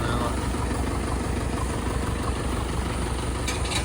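A tractor engine idles steadily in a wet paddy field, a continuous low throbbing rumble at close range, with speech present.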